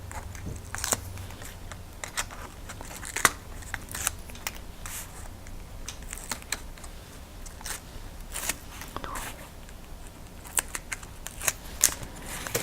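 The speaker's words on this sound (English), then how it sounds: "with my bloom tool, I can take off my backing to my tape." Crafter peeling the backing paper off adhesive tape with a bloom tool while making an Easter bunny shaker card; faint crackly peeling and small crisp ticks at close range, no talking.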